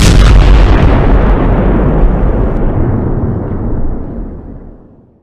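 A cartoon explosion: a loud, wide boom that hits at full strength immediately, then rumbles and slowly fades out over about five seconds, with no voices.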